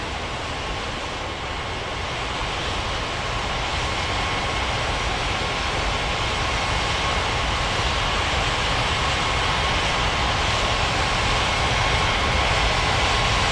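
Steady, loud roar of an airliner taking off from runway 09 at Ngurah Rai Bali International Airport, broadband engine thunder building slightly over the span, with no speech.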